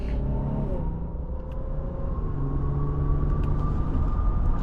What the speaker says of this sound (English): the engine sounds like a Q50 Red Sport. It sounds like a, you know, like a VQ motor.